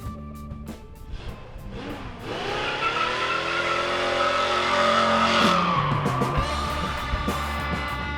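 A 1965 Ford Mustang V8 with long-tube headers, dual straight pipes and Black Widow Venom 250 mufflers rumbles loud and deep, its raspy exhaust note swelling and holding as the car drives close by.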